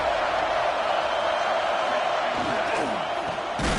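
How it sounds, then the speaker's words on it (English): College football stadium crowd roars steadily as fans rise up in support of their defense, a dense, continuous wall of cheering with a sharp thump near the end. "This crowd rising up, sensing that its defense needs some help."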